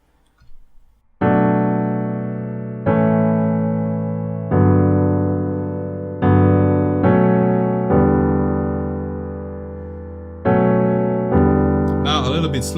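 Piano playing a song, a series of sustained chords struck about every second and a half, each ringing and slowly decaying, close and alone with no talk.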